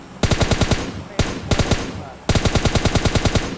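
Automatic gunfire in the video game PUBG Lite rattles out in three rapid bursts of sharp, evenly spaced shots, loud and close, with short pauses between bursts.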